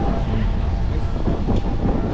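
Strong coastal wind in Sochi buffets the microphone in a loud, continuous roar with gusty swells across the whole moment.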